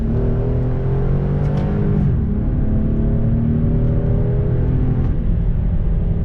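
A 2017 Infiniti QX50 engine heard from inside the cabin, steady loud drone whose pitch drops midway as it shifts down a gear, then settles into a continuous hum.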